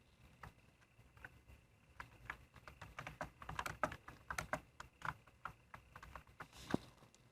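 Keys clacking on a computer keyboard as a short message is typed, irregular bursts of close, crisp taps that speed up in the middle and thin out toward the end, with no voices.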